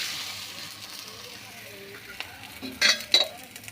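Wheat flour adai batter fries on a dosa griddle with a soft, steady sizzle, and a couple of louder scraping or clattering bursts come near the end.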